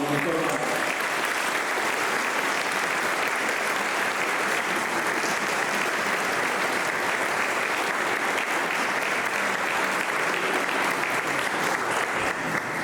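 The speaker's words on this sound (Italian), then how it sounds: "dedichiamoci un grande applauso" An audience claps steadily and loudly throughout, a dense sustained round of applause at a choral festival celebrating a choir's 40th anniversary.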